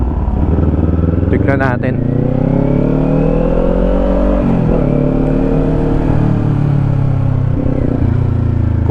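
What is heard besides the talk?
Kawasaki Ninja 400 motorcycle engine revving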